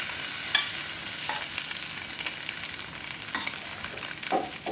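Vegetables tossed into a hot pan with shrimp, a loud steady sizzle and frying hiss with brief scraping stirs, close up and continuous.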